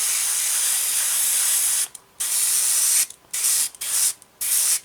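An airbrush sprays green paint over a 1/48 Eduard F6F-3 Hellcat model in close, loud bursts of hiss, with several short pauses between passes.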